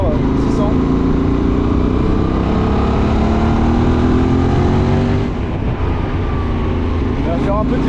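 A 2025 QJMotor SRT 600 SX motorcycle in A2 trim accelerates on a country road, its engine note climbing steadily and loud and close, with heavy wind rush throughout.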